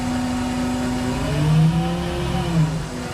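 A small engine on an Aermotor 702 wind/electric combo pump runs at full throttle, a steady close drone with slight pitch wavering and a couple of brief surges, no voices over it.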